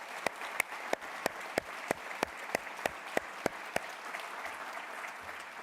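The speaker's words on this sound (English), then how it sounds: "So a special applause to both Giovanni and to Nicola." Applause for Giovanni and Nicola at a plenary session of a global forum, about a dozen sharp, evenly spaced claps standing out over a faint wash of crowd noise, fairly distant and quiet.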